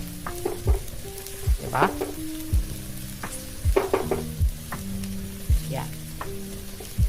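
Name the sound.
rice fried with leftover adobo in a pan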